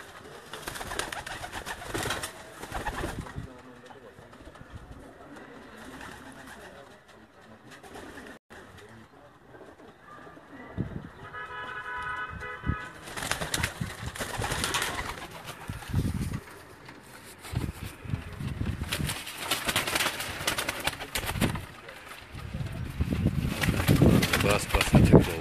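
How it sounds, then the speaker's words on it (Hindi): Breeder male pigeons kept apart from females at a home loft, cooing in soft repeated calls with other bird sounds around, while people talk at intervals and background noise rises toward the end. "ये चौधरी शमरेज साहब के घर के ब्रीडर जो कबूतर हैं वो कबूतर आप देख रहे हैं।"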